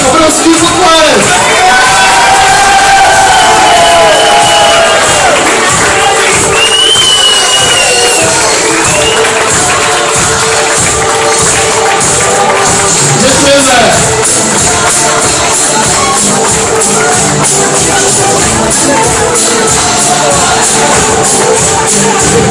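An excited crowd at an Aquaboys show cheers and shouts continuously, loud and dense throughout, with whoops rising above the roar.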